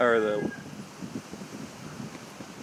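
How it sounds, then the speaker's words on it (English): Wind buffets a nearby microphone in low, uneven rumbling gusts outdoors in Puerto Rico after Hurricane Irma, following a brief spoken phrase at the start. "it's still really windy"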